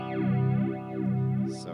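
Subtractive flange from an Electro-Harmonix Mod11 modulator on a sustained instrument tone, a close, steady sound with a slow sweeping, whooshing comb-like swirl rising and falling.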